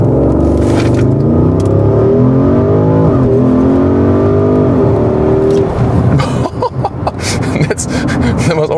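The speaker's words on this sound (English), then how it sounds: "we go to Sport Plus here to show you the launch control" Porsche Cayenne Turbo Coupé V8 launching with launch control uphill in Sport Plus, a loud rising engine roar climbing through gears with shift dips, then rushing wind and road noise toward the end.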